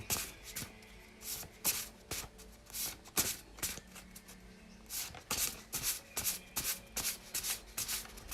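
A Game of Thrones card deck is shuffled and a card is drawn: close, papery riffling and sliding bursts come in quick uneven clusters, with no talking.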